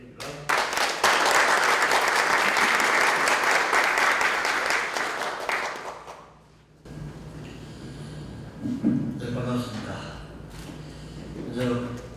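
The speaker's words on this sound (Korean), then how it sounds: "큰 박수 부탁드립니다" Audience applause at a graduation ceremony of a peace academy in Paju, Korea: a full burst of clapping for about six seconds that fades out, followed by scattered noises and talk.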